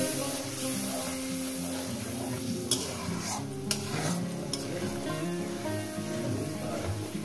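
Tomato and spice masala for chicken stirs and sizzles steadily in a pan, a continuous soft frying hiss with occasional light clinks of a spoon against metal, no voices.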